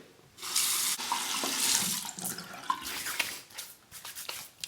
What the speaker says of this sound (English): Soak the face with that hot water.